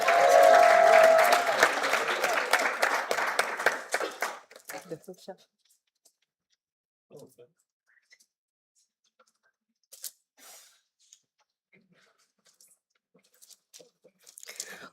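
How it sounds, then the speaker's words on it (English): A crowd at a health conference closing ceremony in Ghana applauds loudly for about four seconds, then the clapping stops and faint, scattered voices and small noises follow. "A round of applause for the KNUST team."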